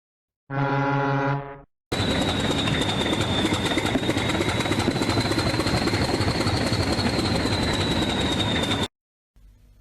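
Toy engine Mako arriving at a quarry: a steady mechanical engine hum with a sustained whistle-like tone running for about seven seconds, preceded by a short harmonic horn blast and followed by silence.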